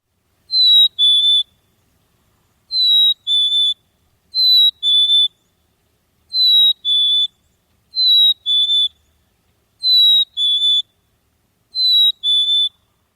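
Black-capped chickadee song, the clear whistled two-note fee-bee phrase, repeated seven times at steady intervals, loud and close with nothing else audible between phrases.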